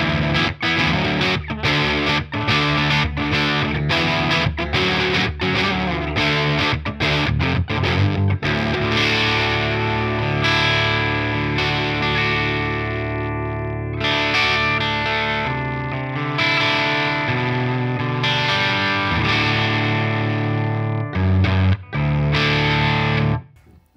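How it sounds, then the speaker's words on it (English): Electric guitar played through a home-built 4 Track fuzz pedal kit, giving a thick, edgy distorted tone with sustained chords and riffs that fill the whole stretch loudly and continuously, with no talking. "That is a good fuzz pedal"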